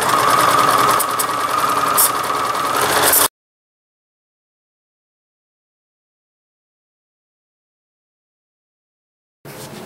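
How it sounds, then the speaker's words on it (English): A sewing machine stitches the lining of a patchwork Christmas stocking in one loud, steady, close run of rapid needle whirring for about three seconds, then goes silent before it starts again briefly at the end. "I'm going to sew all the way around the lining to the back and leave a nice"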